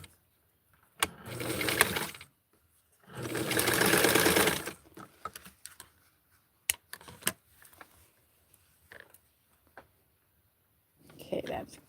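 A sewing machine stitching fabric in two loud, steady bursts, followed by scattered clicks and handling noises, then a brief restart at the end.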